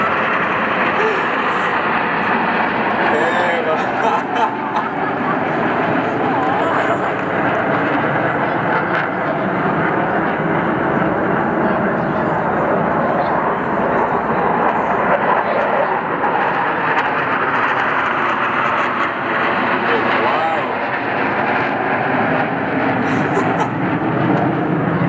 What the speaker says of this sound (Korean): 아직 계속 비행기가 날아가고 있으니까